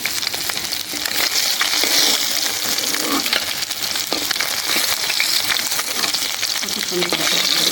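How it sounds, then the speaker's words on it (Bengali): Fish frying in mustard oil in a wok, a steady loud sizzle and crackle with occasional stirring scrapes, filling the whole stretch without talk. "কড়াইতে মাছ ভাজি শুধু যে এত সুন্দর মরিচ হবে।"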